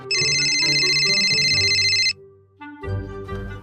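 A phone ringtone rings loudly and continuously for about two seconds, then stops, followed by brief background sounds.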